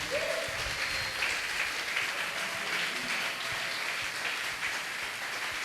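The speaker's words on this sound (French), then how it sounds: "on acclame la parole" A church congregation at a Wednesday service applauds in a sustained, dense round of clapping that holds steady at moderate volume from start to finish.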